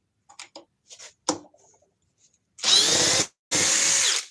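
A Milwaukee M12 Fuel subcompact brushless power tool revs in two loud, close bursts of about a second each, following several light clicks and taps.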